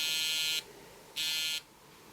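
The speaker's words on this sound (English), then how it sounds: "it makes the alarm go off on your phone so that you can find it" A phone alarm triggered from a V5S health bracelet sounds as two loud, shrill buzzing tones, each about half a second long with a short gap between them, clear and alone.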